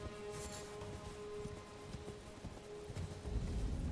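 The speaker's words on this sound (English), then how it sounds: "We're on a horse." Horse hooves galloping in the video game Elden Ring, a rapid, steady clip-clop rhythm at moderate volume with a faint tonal hum underneath and a low rumble swelling at the end.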